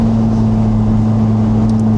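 McLaren 675LT Spider engine at full throttle, a loud steady droning roar with a strong low hum and wind rush, continuous throughout with no breaks.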